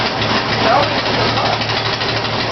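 An old car's engine runs at a steady, rough idle, loud and close with a constant mechanical drone and faint speech beneath it.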